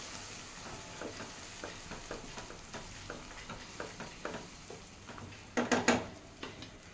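A spoon scrapes and stirs tomato-garlic puree into rajma curry in a pan over a quiet sizzle, making soft rhythmic strokes. Near the end comes a louder cluster of clattering scrapes against the pan.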